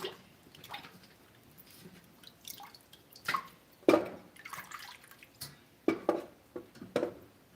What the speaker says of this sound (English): I let them soak in their own bowl as I go on and wash the greens